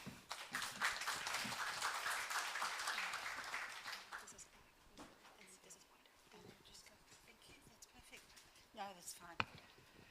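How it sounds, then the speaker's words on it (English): Conference audience claps to welcome a speaker at an e-learning event in Korea, a dense round of applause filling the first four seconds, then thinning to scattered claps and murmuring. "Please welcome her with a warm round of applause"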